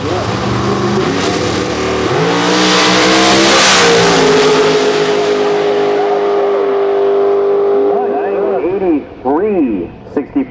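A nitrous-fed Oldsmobile outlaw street car roars through a drag racing pass, its engine revving hard then holding a loud, steady high-pitched pull before backing off, with crowd or announcer noise underneath.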